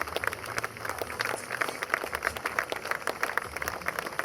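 Crowd applause at a memorial inauguration in Nantes, steady moderately distant clapping with a loose irregular rhythm, continuing throughout without talk.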